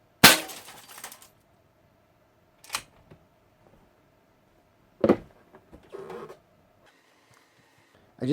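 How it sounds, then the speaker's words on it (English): Window glass is hit by a shot from a .25 caliber Diana Outlaw air rifle: one loud sharp crack with a short shattering tail, followed by a few scattered quieter knocks and clatters over a faint steady hum. "I just broke my window"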